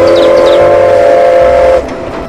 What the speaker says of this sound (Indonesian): selanjutnya ada kereta Thomas.